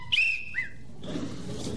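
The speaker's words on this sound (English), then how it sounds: "Oh, blow the whistle again." A whistle blown to call back a trained falcon, two short shrill blasts close by, the second briefer, followed by a murmur of studio audience noise.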